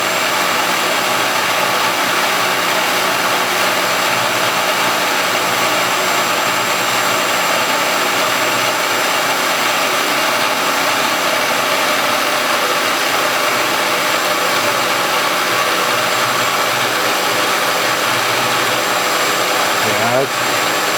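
A dull cutter machines a water pump fan, giving a steady, loud broadband grinding whine with a faint constant tone that carries throughout, ending with a brief change near the close.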